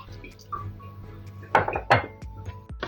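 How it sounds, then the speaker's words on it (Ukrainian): Clinks and scrapes of a utensil against a bowl of eggplant and beet salad with oil, sugar and salt, a few sharp knocks in irregular succession, close and fairly quiet. "Все ретельно перемішую"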